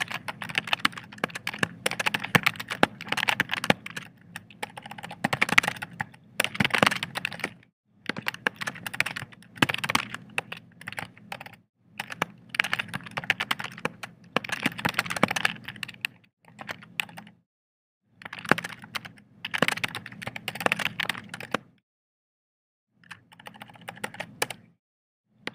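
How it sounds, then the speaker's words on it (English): An email address is typed on a computer keyboard, with close, rapid clicking keystrokes coming in bursts separated by short pauses and no talking. "And then go ahead and type in the email address."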